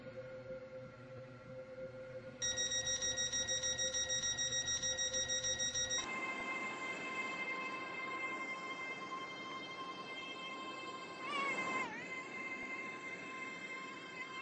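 A five-coach Stepford Express passenger train from the Roblox game Stepford runs steadily, with layered electric motor whines that step up in pitch and a brief sweeping tone near the end, and no voices.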